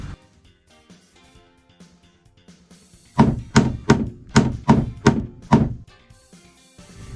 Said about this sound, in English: Now let's try pounding it.